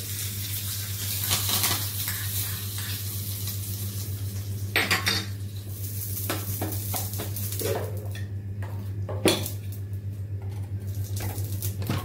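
Spices tempering in a pan for chutney, a low sizzle under repeated metal clinks and scrapes of a spoon against the pan, with a constant low hum in the background.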